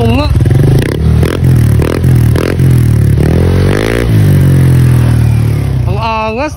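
Honda Click 125 scooter running a Namban aftermarket power pipe, revved repeatedly in sharp blips that rise and fall over a loud idling rumble close by, then a longer climbing rev, with brief voices near the end.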